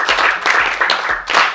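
Close, enthusiastic clapping from a small crowd at a children's show, coming in bursts that swell and ease over a couple of seconds.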